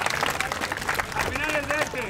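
Audience at a clown show clapping for a girl, a dense patter of applause running the full short stretch beneath steady talking voices.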